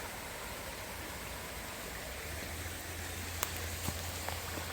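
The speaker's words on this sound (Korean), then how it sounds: "그 바로 앞에가 운악폭포입니다." Unak Waterfall in Pocheon, Gyeonggi, forested land, pours in a steady broad rush of falling water, a constant hiss with deeper low rumble, continuous and moderately distant, with no voices over it.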